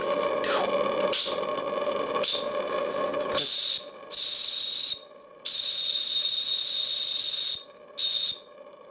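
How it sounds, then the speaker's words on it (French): The original small steam whistle on a live-steam model engine, regulated to 2 bar, blows in several shrill bursts, short toots then longer sustained whistles, preceded by hissing steam. "Le petit sifflet original."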